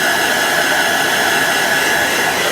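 A hair dryer or heat gun blows loudly and steadily while heat setting fabric ink, a constant close whooshing roar with a faint tonal whine and no talking.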